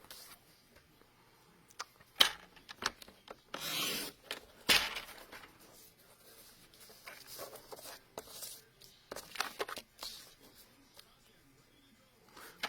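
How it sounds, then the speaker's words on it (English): A paper trimmer slicing the edges off an envelope for a Paper Pumpkin card project, giving short close sliding cuts and rubbing paper rustles scattered among quiet handling noises, with no talking. "So go ahead and get your trimmer and just slice off the edges."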